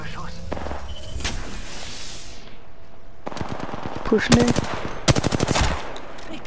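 Bursts of automatic gunfire in the shooter game Apex Legends on the Olympus map, rapid rattling volleys growing louder toward the end, with a player talking briefly over the shots.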